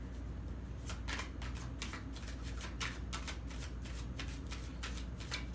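Tarot cards being shuffled steadily over a low background hum, a continuous run of soft riffling bursts close by, with no voices.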